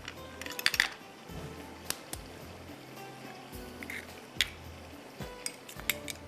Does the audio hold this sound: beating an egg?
yes